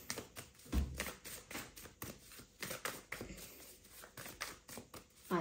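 Tarot cards being shuffled by hand, a run of quick crisp riffling taps and flicks in uneven bursts, close and faint with no speech.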